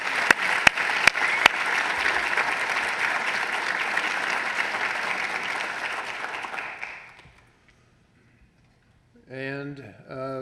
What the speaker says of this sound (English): we'll give the awardees here another round of applause for their efforts